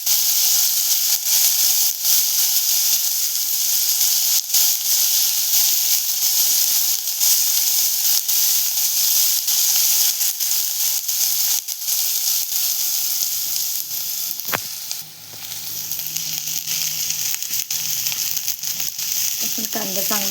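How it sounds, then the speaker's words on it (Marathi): Chopped onions sautéing in a pan for a Marathi-style radish pods vegetable dish, a steady close sizzle and hiss running throughout with occasional stirring scrapes near the end. "इथे आपण कांदा परतवून घेतोय."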